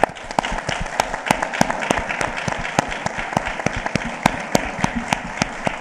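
A panel discussion audience breaks into steady applause, dense clapping from many hands sustained throughout, with sharper individual claps standing out, no talking.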